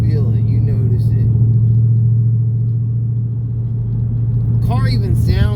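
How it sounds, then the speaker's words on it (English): A tuned Ford Mustang rumbles with a steady, deep, close engine drone, then sharper crackling bursts arrive near the end, fitting the exhaust pops from the back of the car. "you can hear the spark cutting, and you can hear, like, the crisp pop from out the back of the car"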